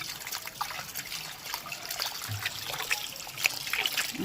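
Water trickles and splashes steadily from a tap while fresh small parshe fish are rinsed by hand, with soft drips and light splatters, close and fairly quiet.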